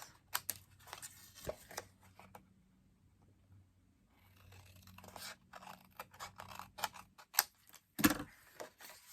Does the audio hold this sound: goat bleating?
no